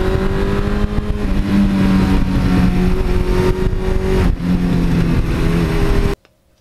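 A 1982 Suzuki GS1100E motorcycle being ridden, its engine droning loud and steady with shifting pitch as it pulls through the gears, a brief dip midway, then cutting off abruptly at the end.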